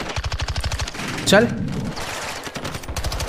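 Rapid automatic gunfire from Call of Duty: Modern Warfare II crackles in quick, steady bursts, with a brief pause in the middle, while a player talks over it.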